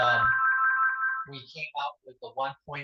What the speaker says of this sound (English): Sorry about my phone going.